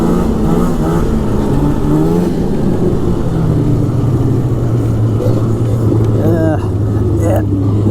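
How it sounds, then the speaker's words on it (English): A 2002 Polaris Super Sport 550 fan-cooled snowmobile runs loud and close with a steady engine drone, rising and falling as it is revved, with a voice talking over it. "This is the first time I've drove one of these 550 fan cooled sleds."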